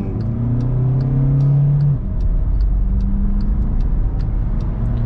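Software-tuned 190 hp Volkswagen Caddy launching at full throttle up a slight incline. The engine roars steadily and climbs in pitch, then briefly drops as it shifts and pulls on, loud and close throughout.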